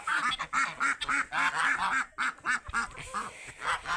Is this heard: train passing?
no